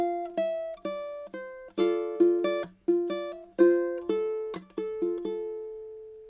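Fingerstyle ukulele plays a swung pattern of plucked notes and short chords for a song, with palm-muted repeated notes on two strings, each attack sharp and quickly decaying, close and clear with no voices.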